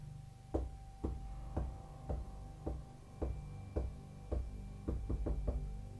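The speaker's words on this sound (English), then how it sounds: "it knocked again, and again, and again" Repeated knocking as a story sound effect: about a dozen dull, fairly quiet thuds at a steady pace, bunching into a quicker cluster near the end, under a low background hum.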